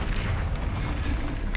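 An Incendio fire spell bursts during a Hogwarts Legacy troll fight, a short, dense, continuous roar of flame with a deep booming body and no pause, loud and close throughout.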